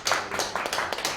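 Audience applause at a church prayer meeting broadcast, a quick burst of close, fairly loud hand claps in a rapid uneven rhythm, with no talking over it.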